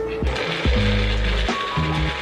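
A blender whirs in short bursts, mixing a smoothie of strawberry protein powder, apple juice, frozen banana and strawberries, its motor pitch stepping up and down between pulses, loud and close.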